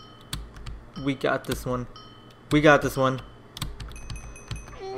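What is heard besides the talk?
loud computer keyboard clicking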